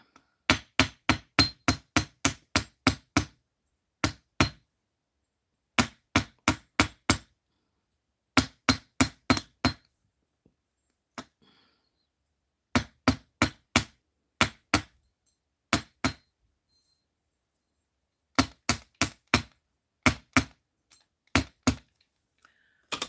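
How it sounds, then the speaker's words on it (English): Nylon jaw hammer striking metal on a steel block, sharp taps in quick bursts of several blows separated by pauses, close and clear with no talk. "we're going to bring our block out, and we're going to get our nylon jaw hammer out"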